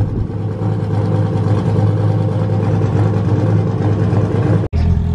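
A Datsun drag car at the TX2K19 drag racing event, with a loud, close engine roaring hard and continuously under acceleration, then a brief dropout near the end before the roar resumes.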